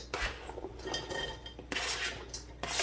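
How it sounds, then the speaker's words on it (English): An onion is tossed into a dry cooking pan, giving a few clattering knocks and scrapes of metal cookware, close and fairly loud, with no talking. "I'm going to throw my onion in here."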